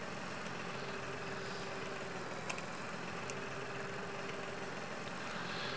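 A tractor in the farming game Farm Expert 2017 drives along a road, its engine a steady, moderately loud droning rumble with a faint whine, continuous and unbroken, with no voices.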